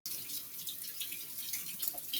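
Kitchen tap water running over black beans in a colander, a soft, steady splashing stream with small fluctuations, fairly quiet and close, with no voices.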